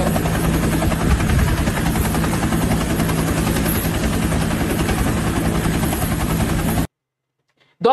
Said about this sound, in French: Donc là, hélicoptère vini